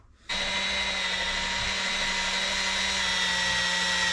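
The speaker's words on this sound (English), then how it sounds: "Take a wire cut brush, smooth this out in here to prep it for pressing in the new one." Steady power-tool whine of a wire brush spinning inside a 60 or 65 mm caster arm, cleaning the bore before a new part is pressed in; starts abruptly after a quiet moment and runs loud and constant with a sharp high buzz.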